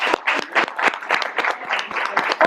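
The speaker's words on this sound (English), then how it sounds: "give them a round of applause" Audience members at an influencer talk event give a round of applause. The individual claps are sharp and distinct, coming in a quick, slightly uneven rhythm from a small group nearby.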